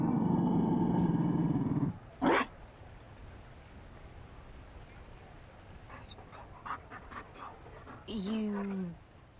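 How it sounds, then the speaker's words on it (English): A Mabari war dog in the Dragon Age: Inquisition Trespasser game pants in breathy, close puffs, with a sharp burst early on and a rising whine-like growl near the end after a short tonal passage. "You found a dog."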